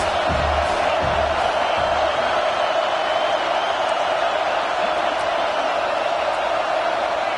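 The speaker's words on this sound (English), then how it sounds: "Big third down as the crowd gets behind this defense." Football stadium crowd cheering on the defense before a big third down, a steady broad roar of many voices that holds at the same level the whole time, with faint commentary under it.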